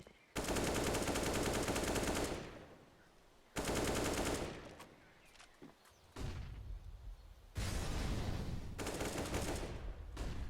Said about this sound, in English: Max actually gets spotted on the cross, so nice op shot from Smike.